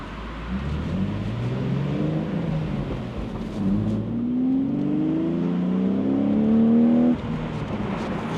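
A petrol Range Rover Classic engine rumbles and revs close by, its pitch climbing through two gear-like rises before easing off, with no talking.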